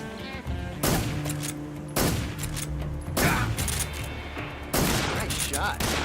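Bursts of gunfire ring out in the Metal Gear Solid 3 video game, several loud volleys and single shots spaced about a second apart, with game voices heard between them.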